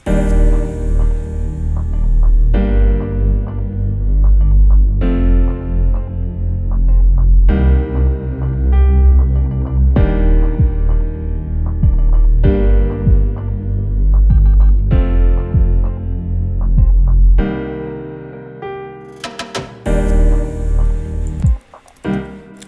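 A trap-style beat with a bass line tracing the low notes of piano chords, loud and dense with heavy low end and steady pulsing hits, dropping out near the end for a brief sparse break.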